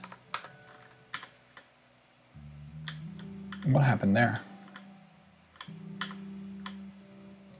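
Computer keyboard typing during a game-engine programming session: scattered, fairly quiet key clicks in irregular bursts, mixed with someone talking.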